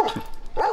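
A dog gives two short, loud barks up close, separated by a brief whimpering pause, with no talking over them.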